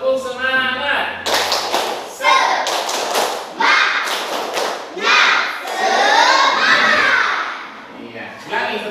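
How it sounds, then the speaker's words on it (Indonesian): A class of children does the 'tepuk semangat' spirit clap, sharp rhythmic bursts of group clapping mixed with chanting voices and classroom chatter. "Sekarang kita bertepuk semangat dulu ya."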